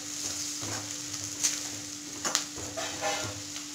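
Turmeric sizzling steadily in hot oil as tamarind rice is prepared, a soft continuous hiss with a few brief stirring scrapes and taps, close and fairly quiet.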